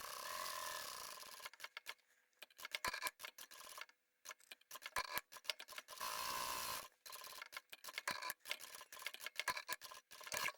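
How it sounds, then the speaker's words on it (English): A sewing machine stitches along the outer rectangle of a zippered fabric bag, running in short bursts and longer steady stretches of rapid needle ticking, close and fairly quiet, with no talking. "We're just going to sew right on the outer rectangle."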